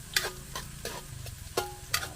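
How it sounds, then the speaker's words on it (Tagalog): Garlic, ginger and onion sautéing in hot oil in a pan for a farm-style dish, a steady soft sizzle broken by scraping stirs and light utensil taps against the pan, heard close up. "Dire-diretso lang po ang gisa at gawa ng mainit naman yung kawali at saka yung mantika."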